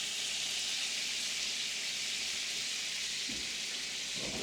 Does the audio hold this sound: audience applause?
no